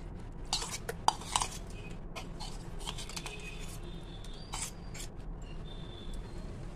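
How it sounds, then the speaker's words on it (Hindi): Soft scraping and light clinks of a spoon putting cream into a mixer jar, a few brief taps, close and quiet with no talking. "मिक्सी का जार लेंगे और मिक्सी के जार में डाल देंगे ये मलाई।"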